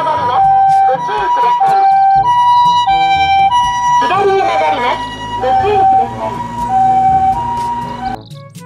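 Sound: ambulance siren

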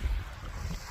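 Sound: strong wind at the seashore

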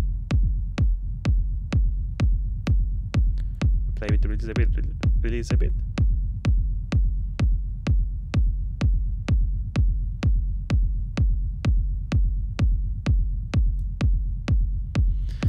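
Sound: layered techno kick drum and bass rumble with sidechain compression

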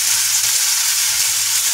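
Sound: garam masala being fried in a pan

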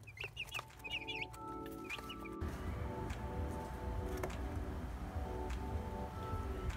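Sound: broiler chicks chirping in a half barrel

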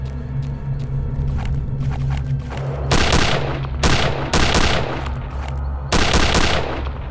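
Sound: sniper gunfire in Return to Castle Wolfenstein video game

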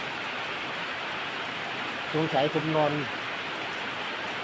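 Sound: rain falling

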